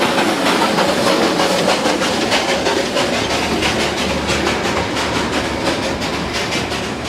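The Darjeeling toy train rumbles past roadside shops at close range, a loud continuous roar of wheels and hissing with a steady rhythmic clatter running throughout, no voices.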